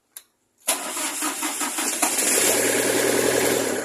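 A Miller 500X welder generator engine cranks briefly after a short click, then fires and settles into a steady, loud running idle close by.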